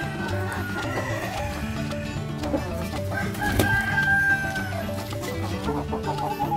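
A White Leghorn rooster crows once, loud and clear midway, among the clucking of a breeding flock of chickens, with other birds audible throughout.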